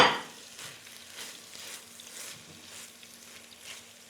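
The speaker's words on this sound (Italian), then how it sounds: "Ci aggiungiamo altre melanzane, man mano che friggiamo." Eggplant frying in hot oil in a pan for caponata, a steady soft sizzle with faint stirring pulses recurring every second or so, close and fairly quiet with no talk.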